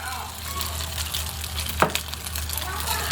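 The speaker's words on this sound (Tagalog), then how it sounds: "magigisa tayo ng luya" Ginger sautéing in a pan for a chicken dish, giving a steady low sizzle with soft stirring scrapes and one brief sharper clatter near the middle.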